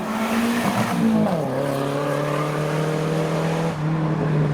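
A car at a Japanese car meet in Reading slides with its handbrake pulled, loud engine drone and tire squeal sweeping down in pitch, then holding steady, close and continuous with no talk.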